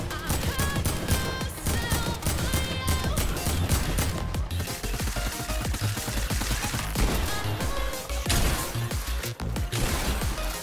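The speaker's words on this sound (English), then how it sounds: "He's trying to shoot me down right now." Rapid gunfire in the video game Fortnite: Battle Royale, a steady loud barrage of shots and impacts running the whole time over layered game sound.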